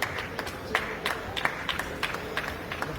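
Scattered, fairly faint clapping from an audience at a party event in a stadium, crowd murmur running beneath the uneven claps.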